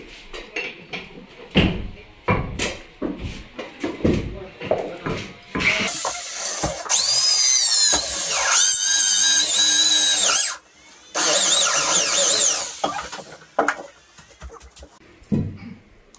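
A power drill boring holes for screws: several short bursts of whirring, then two longer high-pitched runs of the motor, interspersed with clattering handling knocks, close and loud.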